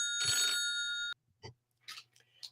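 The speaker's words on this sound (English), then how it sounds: "Oh, my allergies are acting up, but I got to get the phone." A telephone bell rings in one loud burst of about a second, then stops abruptly; faint breathy sounds and small noises follow in a quiet room.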